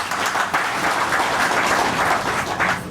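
An audience at a felicitation event in Vijayawada breaks into loud, sustained applause, a dense wash of many hands clapping together without pause.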